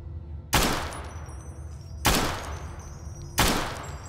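Three loud, sharp gunshots crack out about a second and a half apart in the Fallout video game, each one followed by a short decaying tail, with no talking.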